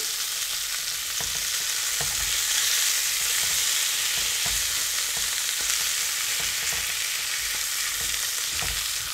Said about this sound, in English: let's turn down the temperature on our frying pan and roll our sausages